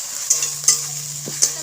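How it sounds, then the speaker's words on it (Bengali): A potato and pea curry with tomato paste fries in a pan while it is stirred. A steady sizzle runs under three sharp scrapes of a spoon against the pan, close by. "টমেটোর বাটাটা দিয়ে দেবো। দিয়ে আরও কিছুক্ষণ ভালো করে নেড়ে চেড়ে নেব।"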